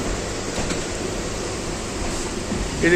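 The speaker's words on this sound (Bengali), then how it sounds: "এটা কিন্তু নতুন ট্রেন" A low, steady rumble of a new, fast Sealdah local train on the move, constant and even throughout, with no talking.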